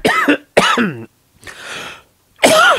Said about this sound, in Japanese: なぜこんなにむせてるかというと、今飯食ったばっかりでさ、いろんなものが喉に絡むんだよ